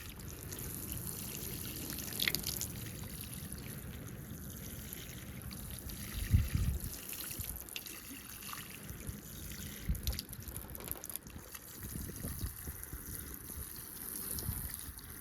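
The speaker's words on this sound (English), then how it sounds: "Time to water the hot chilies." Water from a watering pour trickles and dribbles onto hot chili seedlings in planters, a steady close-up splashing trickle with a brief louder gush midway and no talking.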